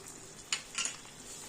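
A spatula stirs chilli cauliflower in a frying pan, with a few brief scraping strokes over a faint background sizzle, close and fairly quiet.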